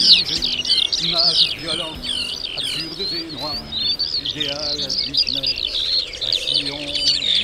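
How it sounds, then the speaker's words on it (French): Many wild birds chirp and sing continuously in an overgrown former airport grassland near Saint-Brieuc, a dense chorus of overlapping trills and tweets with steady low background noise. "Plus de 40 espèces d'oiseaux sont répertoriées ici, dont certains sont sur la liste rouge des oiseaux en disparition."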